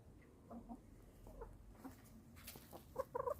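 Chickens on a small farm give soft, scattered clucks, faint and somewhat distant, with a brief cluster of sharper calls near the end over low ambient noise.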